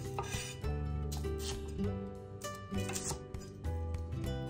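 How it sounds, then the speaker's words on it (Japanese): A knife separates napa cabbage leaves from the core on a cutting board, with a quick series of close, crisp chopping knocks and slicing crunches, some sharp clicks, and no talk. "白菜ですね、葉の部分と芯の部分を分けていきます。"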